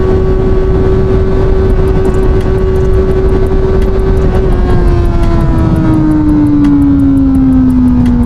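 A CFMOTO 750SR-S motorcycle engine runs loud and close on a test ride, a steady droning note with fast mechanical ticking that holds, then eases down in pitch toward the end.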